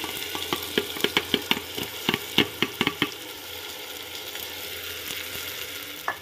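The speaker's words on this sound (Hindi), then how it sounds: "अब हम 2 मिनट तक इसे अच्छे से थोड़ा सा फ्राई कर लेंगे" Washed daliya and moong dal frying in a pan, a close, steady sizzle with a quick run of sharp clicks and stirring scrapes early on, then a smoother hiss.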